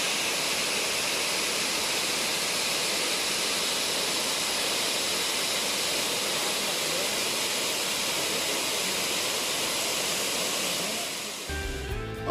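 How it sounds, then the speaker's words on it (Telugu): Tirathgarh waterfall rushes in a steady, dense roar of falling water, constant and loud throughout, with a brief handling noise at the very end. "ఇప్పటికైతే జలపాతం గలగలను విన్నారు కదా"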